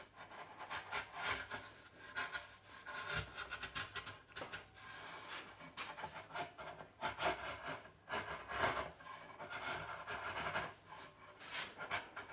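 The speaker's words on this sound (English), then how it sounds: "I can just peel away end grain shavings." A freshly sharpened blade peels thin shavings from end grain wood, giving repeated soft scraping, rasping strokes, close and moderately quiet, with no talking.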